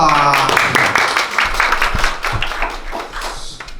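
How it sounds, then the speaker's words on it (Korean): Audience applause at a Seoul peace-unification security education presentation ceremony, a dense, steady wash of many hands clapping close and loud, thinning slightly toward the end. "그럼 박수 치고 하는 게 좋습니다"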